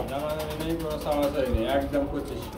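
Lahori pigeons cooing at a pigeon seller's stall, soft warbling coos heard close under a voice talking.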